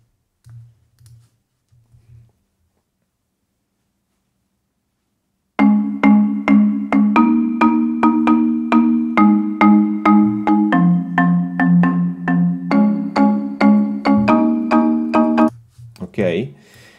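Marimba part played back in the Soundslice notation app: about ten seconds of steady, evenly paced mallet notes in a clear melodic line, loud and alone, with faint brief talk before and a short noise at the end.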